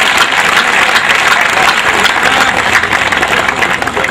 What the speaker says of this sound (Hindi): डॉक्टर साहब के लिए एक बार और तालियां बजा रहे थे।